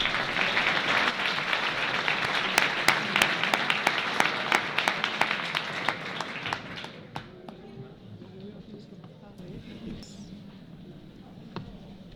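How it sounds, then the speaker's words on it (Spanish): An audience at an honours ceremony applauds the writer and poet Carmen Busmayor with a loud, dense round of clapping that thins to scattered claps before a voice begins speaking. "Un fuerte aplauso para Carmen Busmayor."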